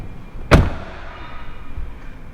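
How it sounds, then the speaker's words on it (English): A Tesla car door is shut with one loud, solid thud, close by, followed by a quiet interior hum. "if I get in the car and close the door, the screen should stay on"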